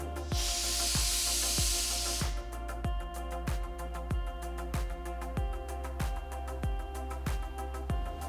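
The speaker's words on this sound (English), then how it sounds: "Cook on low flame for about 6 whistles." A pressure cooker on low flame cooking green gram, a loud steam hiss at first, then a steady rhythmic series of about a dozen sharp ticking pulses as the weight rocks, close and without talk.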